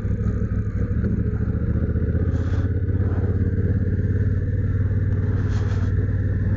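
A Honda Africa Twin DCT (CRF1000L) motorcycle engine runs with a steady, loud, low rumble and a faint clattering texture, heard up close for several seconds without speech.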